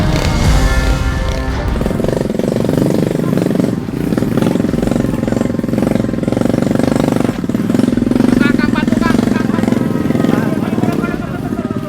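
A motorbike carrying riders labours over a rocky, badly damaged dirt road, its engine rattling and droning loudly and continuously with jolting clatter throughout, a voice talking over it.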